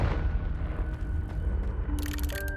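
A Confringo spell from Hogwarts Legacy detonates in a deep, rumbling boom that trails off. A bright chime and shimmering game effects follow in the last half second.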